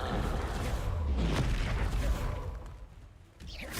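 Spell blasts in the Hogwarts Legacy video game, a dense run of booming bursts and crackling impacts that stays loud for most of the stretch and then dips briefly near the end.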